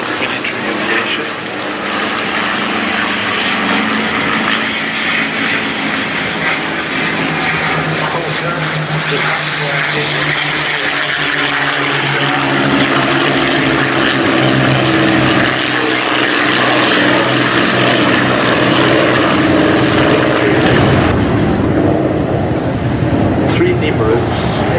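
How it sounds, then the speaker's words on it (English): Hawker Nimrod biplanes fly with a Hawker Fury at the Flying Legends airshow at Duxford, their piston engines droning continuously and swelling louder in the second half, with a commentator speaking over the noise. "Nimrods in the sky, one flown by Kinsey, another one by Mr. Holloway, and one Fury"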